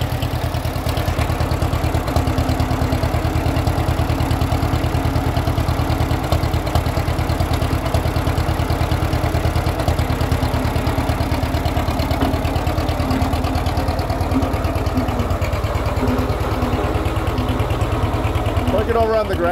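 A John Deere two-cylinder tractor engine idles steadily and loudly up close, its low, even chugging continuous throughout with faint background noise.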